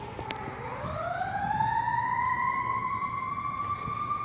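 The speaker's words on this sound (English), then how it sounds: "Damn sirens. That's what happens when you live in LA County though." A wailing emergency vehicle siren in LA County sweeps upward and holds a loud, steady rising tone for several seconds, clearly nearby over a low traffic rumble.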